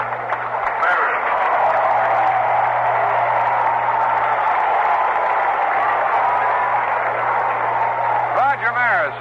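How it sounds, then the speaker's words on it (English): Crowd applause at a 1968 Dodgers versus Cardinals baseball game as a batter comes to the plate, a steady broad wash of clapping with a few boos, heard under a radio broadcast announcer's voice. "Roger Maris is applauded by most as he comes to the plate, booed by a few because he broke Babe Ruth's record"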